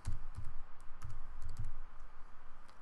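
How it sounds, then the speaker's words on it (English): Fingers type on a computer keyboard, a quick, close run of light clicking keystrokes with short pauses between bursts. "we type in MvvmCross"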